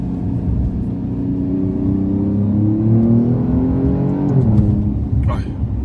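A 2.9-litre twin-turbo V6 Alfa Romeo Giulia Quadrifoglio accelerates with a rising, whirring engine roar that climbs in pitch from inside the car, while people talk over it.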